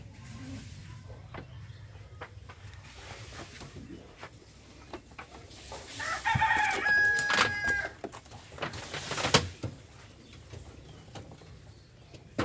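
Backyard chickens cluck around a pigeon and poultry shed while a rooster crows mid-clip, a rising, strained call standing out over scattered clucks and faint ambient rustle.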